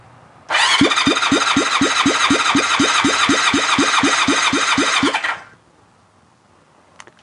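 An engine cranks over on the starter with the throttle held wide open for a compression test, a steady rhythmic chugging of about eighteen even compression pulses over five seconds, loud and close, then it stops.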